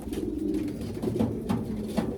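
A racing pigeon in a breeding loft coos close by in soft, low, repeated throaty pulses, a gentle rolling rhythm over quiet room noise.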